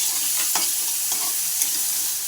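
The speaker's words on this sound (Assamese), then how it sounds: "এতিয়া পিঁয়াজ জলকীয়া ভালকৈ ভাজি লওঁ আদা ৰচুন ভাজি একেলগে দি দিলোঁ" Onion and chilli sizzling in a hot pan, a steady crackling fry with a few soft stirring scrapes, close and continuous.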